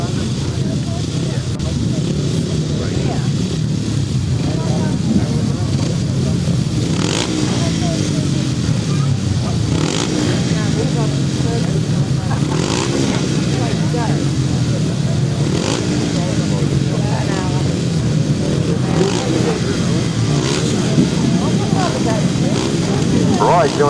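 350cc solo grasstrack motorcycles at the start of a race, their engines a continuous loud droning roar with rising surges, heard at a distance while a commentator talks over it.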